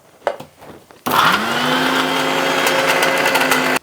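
A mixer grinder grinding spice masala for stuffed brinjal curry starts abruptly after a few faint knocks and then whirs loudly and steadily until it cuts off at the end.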